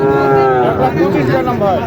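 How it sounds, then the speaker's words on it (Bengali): Cattle, small improved-breed bulls and calves, lowing loudly and close at a traditional cattle market, long resonant moos with faint crowd chatter behind. "খুবই চমৎকার গরুগুলা"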